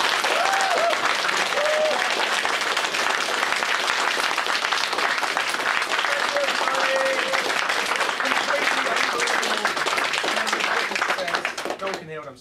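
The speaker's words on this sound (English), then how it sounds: "I think we should all just give a huge round of applause for you." A huge round of crowd applause for a comics writer fills the space, thick and sustained for a long stretch, with faint voices and cheers woven underneath before it thins out at the very end.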